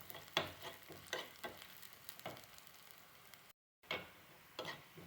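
Onions and curry leaves fry in oil for a homemade bean and egg mezhukkupuratti, a soft, faint sizzle broken by a few light stirring ticks, with one brief silent gap near the end.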